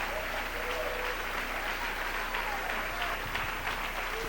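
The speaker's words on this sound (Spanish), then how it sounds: "Dale un aplauso al Rey en esta noche" A church congregation applauds, a steady sustained wash of clapping that fills the hall at moderate loudness for several seconds.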